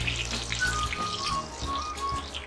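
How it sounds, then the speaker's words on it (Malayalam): Mustard seeds, urad dal and chana dal spluttering in hot oil, a soft continuous crackle and patter of small pops, fairly quiet and steady with no talking. "കടുക് പൊട്ടി ഉഴുന്നും പരിപ്പ് ചുവന്ന് കഴിഞ്ഞു."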